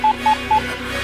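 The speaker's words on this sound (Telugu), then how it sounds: "ఫోన్ చేసి పిలు పిలు పిలు పిలు పిలు." Three short, steady telephone dialing tones at an even rhythm, fairly loud over a low background hum, with no voices.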